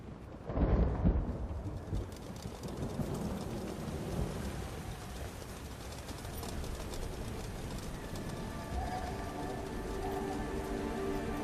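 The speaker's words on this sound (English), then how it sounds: "Rain and snow at once." Steady rain, falling with snow, pours down in a fantasy video game, with a loud thunder crack near the start, then continues as a dense, even hiss with low rumbling underneath.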